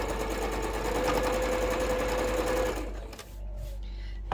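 A sewing machine runs steadily as it stitches quilt block seams, a close, even mechanical whir with a faint high whine, then stops abruptly, leaving quiet handling sounds.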